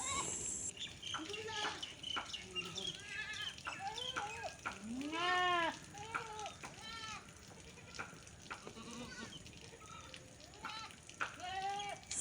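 A goat bleats loudly and repeatedly on a farm where goats are being given deworming treatment, with close, wavering cries one after another and a person talking in between.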